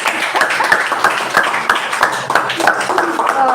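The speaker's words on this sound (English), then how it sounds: "Are we clapping?" Scattered clapping from a small group, short and uneven, with a voice speaking over it.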